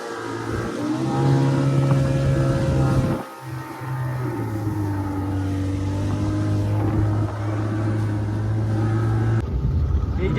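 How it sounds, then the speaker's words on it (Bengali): A parasailing boat's motor drones steadily on the water at New Digha, loud and close with a low hum, dipping briefly before resuming, with voices faintly mixed in. "এই যে বোট এই বোট থেকেই হবে আমাদের আজকের প্যারাসেলিং"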